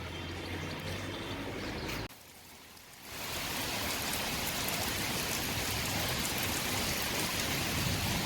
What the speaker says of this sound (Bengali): এ বাবু, অনুজ, পুরো ছাদ ভিজে গেছে, কত জোরে জোরে বৃষ্টি হচ্ছে